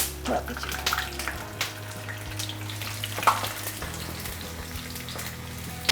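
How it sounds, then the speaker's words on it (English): Fish with green peppercorns, whole red and green chilies and garlic sizzles softly in a pan, a low steady frying hiss with occasional clinks and stirring noises. "Now we will slowly roast our fish"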